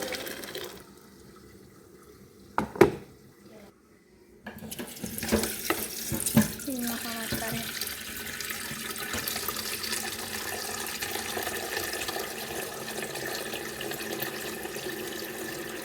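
Boiling water pours steadily into a vessel after a few clinks and knocks, a continuous splashing rush that carries on for more than ten seconds.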